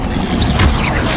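Expelliarmus spell cast in the game Hogwarts Legacy, a brief loud burst of magical whoosh and impact with a heavy low thud, lasting about a second.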